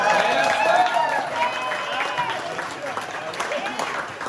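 Wedding guests applaud for Dave, the groom, dense crowd clapping running throughout with voices and cheers mixed over it.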